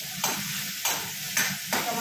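Tomatoes sizzling in a hot pan as they are stirred, with a steady frying hiss and four rhythmic scraping bursts of the spoon, close and fairly loud.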